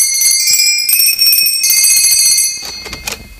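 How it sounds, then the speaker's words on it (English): A bell rung at a North Pole workshop door in a Christmas radio drama: a bright, continuous high metallic ringing lasting a few seconds, loud and alone, ending with a brief clatter. "Rang the bell."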